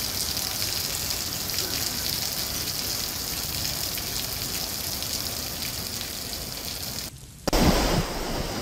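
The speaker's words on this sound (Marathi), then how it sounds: "मुंबईमध्ये मुसळधार पाऊस सुरू आहे आणि त्यामुळे अंधेरी सबवेमध्ये मोठ्या प्रमाणात पाणी साचलं असल्याचं आपण या दृश्यांमध्ये पाहतोय।" Heavy monsoon rain in Mumbai around a flooded Andheri subway, a dense, steady hiss of rain and rushing water that fills the scene, broken briefly near the end by a short dropout and a louder burst.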